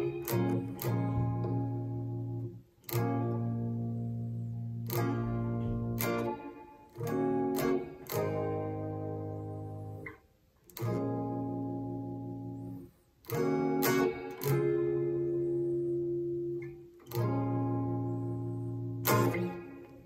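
Solo guitar plays a chord progression, with soft, clearly separated chords rung out one after another and brief pauses between changes.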